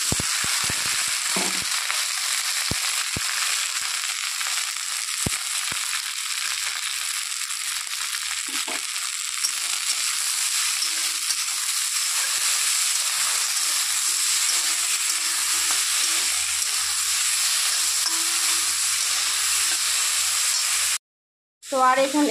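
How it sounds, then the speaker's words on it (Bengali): Okra (bhindi) frying in a pan as part of a vegetarian meal, a steady hiss and sizzle running almost without break, with a few sharp clicks near the start and a brief cutout near the end. "তো এখন হচ্ছে ভেন্ডি ভাজা করব"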